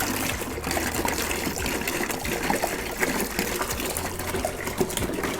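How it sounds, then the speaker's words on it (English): Cran-apple juice gushes steadily into a bucket for wine making, a loud continuous splashing pour with no talking. "we're going to put the first half of our juice directly into the bucket"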